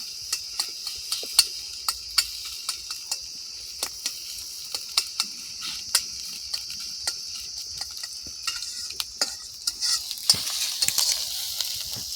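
Steady crackling sizzle of an egg frying with onion in a pan, with scattered sharp pops and ticks throughout, fairly close and uninterrupted by speech.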